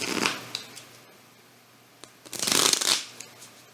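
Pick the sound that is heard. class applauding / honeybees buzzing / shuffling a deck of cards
shuffling a deck of cards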